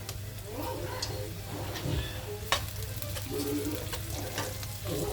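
Garlic fries in a pan with a steady close sizzle and occasional clinks and stirring scrapes, as a voice speaks faintly in the background.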